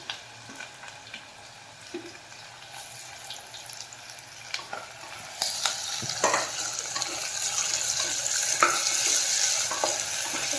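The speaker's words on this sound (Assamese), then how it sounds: "পিঁয়াজখিনি অলপ ৰঙচুৱা হৈছে, অলপ পাছতে আদা নহৰু পেষ্টটো দি দিম।" Onions frying in oil and being stirred for a goat mutton curry, a continuous sizzle with scraping stir strokes that grows louder and denser partway through, heard close and alone.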